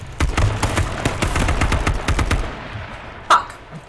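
Rapid bursts of automatic gunfire in the H1Z1 battle royale game, a dense run of sharp cracks for over two seconds, then a lone shot after a pause.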